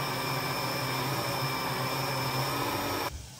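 A blender runs steadily, whirring loud and close as it purees a mixed berry smoothie with strawberry, banana and berries, then cuts off abruptly near the end.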